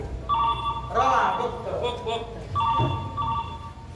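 A telephone rings in repeated electronic bursts during a Malvani comedy stage play, two rings separated by a pause, with voices talking over and between them.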